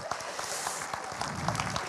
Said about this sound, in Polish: Wielkie brawa dla tych panów, proszę.